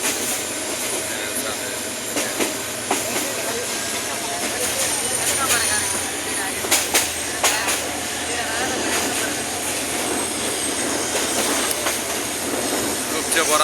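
A crowded passenger train runs along in Gazipur, packed with people riding on its roof; a continuous rumble carries repeated wheel clacks and rattles, and voices are heard over it.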